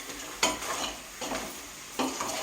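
Crab curry masala sizzling in a pan while a spoon stirs it, three distinct stirring scrapes over a steady close frying hiss, no voices.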